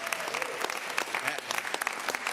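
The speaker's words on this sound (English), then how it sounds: "if we can give a round of applause" Audience applause at a press conference on holding big oil companies accountable, a steady dense patter of many hands clapping close by, continuous and even throughout with no pauses.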